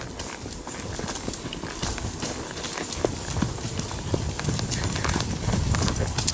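Tennessee Walking Horses clip-clop steadily along an outdoor trail, a loose, even hoof rhythm close by with a bit of background noise and some light talk.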